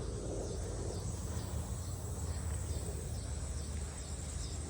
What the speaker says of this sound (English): And as you can hear, the cicadas have finally come out.